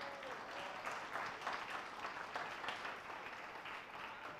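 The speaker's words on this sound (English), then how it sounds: "Please give her a round of applause." An audience at a talk gives a round of applause. It sounds like steady, moderately faint clapping from many hands, continuous throughout with no voices over it.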